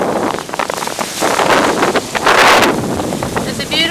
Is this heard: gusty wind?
yes